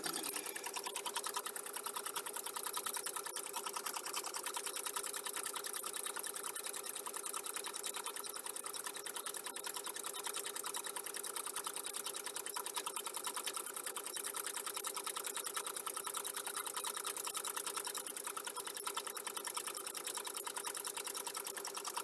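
A sewing machine stitching in a fast, steady mechanical whir, running continuously and close up with no pauses.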